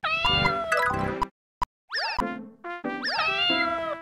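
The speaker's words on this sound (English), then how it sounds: "Of course, they also meow and hiss at you a bunch while this incredibly pleasant music plays in the background." Cartoonish cat meows from the PS1 video game Mainichi Nekoyoubi: several bright, bouncy meow calls in quick bursts, separated by a short silence, with music in the background; no hissing stands out clearly.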